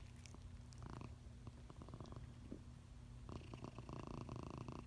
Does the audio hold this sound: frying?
no